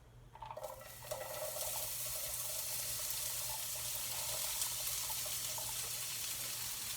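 A whole onion pours into hot oil in a pan while cooking spinach and beans, giving a sudden loud hiss that settles into a steady, broad sizzle lasting the whole stretch, close by with no talking.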